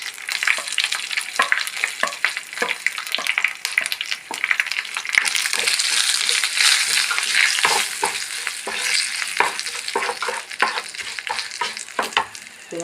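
Curry leaves and turmeric powder fry in a pan for a green chilli curry, giving a steady, close sizzle broken by repeated scraping stirs throughout.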